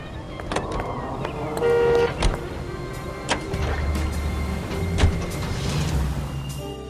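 A car drives in LA Noire, a low engine hum running under a scatter of sharp clicks and knocks, fairly close and steady, with no speech.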